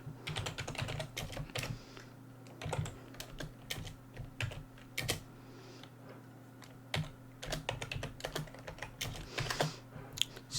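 Typing on a computer keyboard while solving coding problems: bursts of quick, close key clicks and clacks with brief pauses between runs, quiet and with no talking.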